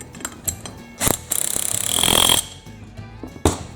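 Ratcheting wrench tightening a bolt and nut on a Cub Cadet GTX 1054 lawn tractor, with rapid clicks and a gritty grinding stretch in the middle and scattered metal knocks before and after.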